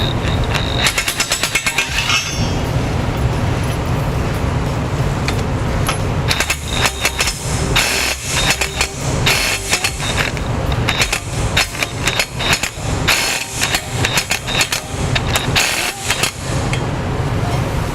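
Bolts on a trailer hitch for a 2019 Ford Explorer are driven tight with loud, close, hammering bursts of a power tool. Short rattling rattats repeat, separated by brief pauses.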